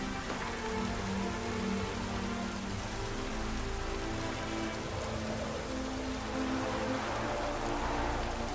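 Steady rain falls in The Witcher 3: Blood and Wine, a dense, even patter on surfaces that stays constant and moderately loud with no voices over it.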